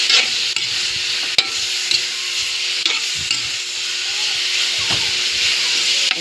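Salted pork for humba sizzles in a hot pan, a steady close hiss of frying with occasional stirring scrapes and light clinks of the utensil against the pan.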